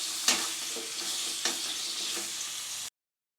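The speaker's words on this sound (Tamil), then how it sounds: "இது நல்லாவே வதங்கட்டும்." Tomatoes sautéing in hot oil for a brinjal curry, a steady close sizzle with a few sharp spoon scrapes of stirring, no voices, cutting off abruptly.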